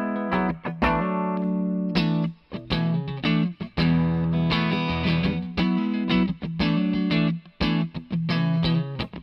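A clean electric guitar, a Music Man through a Victory amp, plays a melodic phrase with sustained notes and a light reverb tail, bright and close, no voices.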